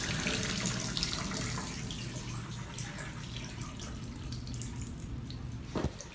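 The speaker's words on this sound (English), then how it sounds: "Oh, nice shower coming out." Water runs from a shower in a steady rushing hiss, fairly close and unbroken, with a short splashy burst near the end and no talking.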